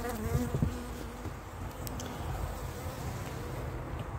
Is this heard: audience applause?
no